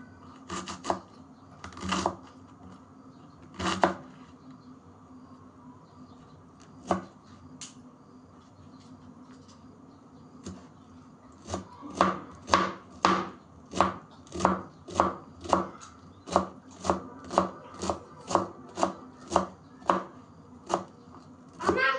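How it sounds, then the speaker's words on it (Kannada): Vegetables for veg momos (cabbage, carrot, capsicum and onion) being chopped with a knife on a board: a few scattered cuts, then a steady run of crisp, evenly spaced chops, close and clear with no talking. "ಸೊ ಇವಾಗ ಇದನ್ನ ಚಾಪ್ ಮಾಡ್ಕೊಳ್ಳೋಣ"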